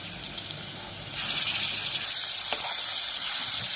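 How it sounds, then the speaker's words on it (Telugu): Onions and green chilies fry in oil with turmeric and ginger, a steady, loud, close sizzle that swells and thickens partway through and keeps hissing evenly with no voices. "కొంచెం పచ్చి వాసన పోయే వరకు ఫ్రై చేసుకోవాలి."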